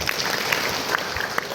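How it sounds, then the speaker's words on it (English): A youth fellowship group claps hands together during a Simon Says game, a short burst of fairly close, scattered clapping with a few sharper individual claps poking out. "Simon says, clap your hands"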